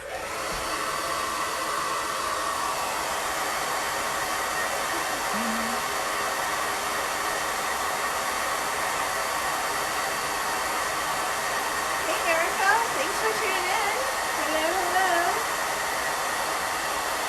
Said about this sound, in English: I'm gonna blow dry one more time